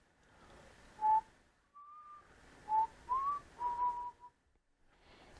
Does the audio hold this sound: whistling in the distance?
yes